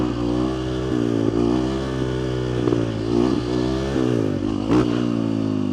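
A Husqvarna 350 dirt bike engine runs close up with a throttle that twitches at low RPM, idling in a rough harmonic drone that blips and swells in short revs several times.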